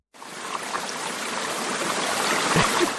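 Running water pours in a steady, close rush with a light trickling, gurgling texture, holding constant for about three seconds after a sudden start.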